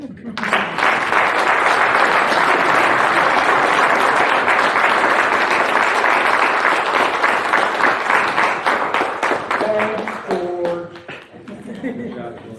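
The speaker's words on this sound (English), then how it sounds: "please join me in a round of applause as George comes forward to receive" A sustained burst of applause from a large crowd at a reunion awards banquet, steady clapping that tapers off near the end as a few voices murmur.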